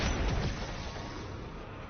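Frag grenade going off in a zombies shooter game, a loud booming blast with a rolling rumble that fades slightly over a couple of seconds.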